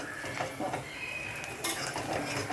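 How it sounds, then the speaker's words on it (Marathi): Stirring masala for paneer tikka masala in a pan, the spoon scraping and clinking in short irregular strokes over a faint sizzle of oil, close and fairly quiet, with no talking. "मस्तपैकी परतून तेल सुटेपर्यंत शिजवायची"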